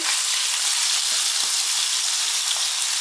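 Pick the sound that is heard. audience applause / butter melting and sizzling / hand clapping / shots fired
butter melting and sizzling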